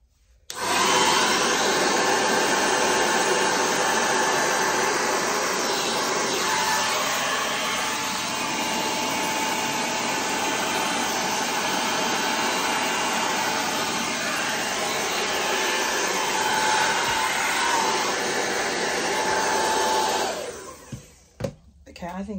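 An air blower runs on full blast over an acrylic Dutch pour, giving a loud, steady, close rushing roar that holds for about twenty seconds, then cuts off abruptly with a few clicks.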